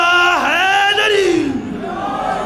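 At a religious celebration for Imam Reza, a large crowd shouts a slogan back in unison, one loud sustained collective cry that rises and falls before fading.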